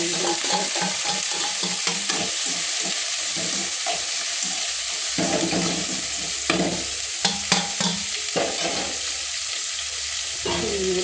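Green beans tossed into softened onions in a pan for beans poriyal, stirred steadily with a spatula; a continuous close sizzle runs throughout, broken by scraping and clatter, with no talk.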